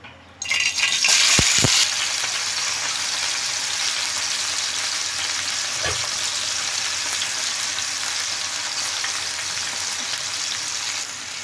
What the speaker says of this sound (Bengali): এখন চুলায় একটি ফ্রাই প্যানে আমি এক কাপ পরিমাণ তেল দিয়ে দিয়েছি এখন মাংসগুলো এর মধ্যে ছেড়ে দিচ্ছি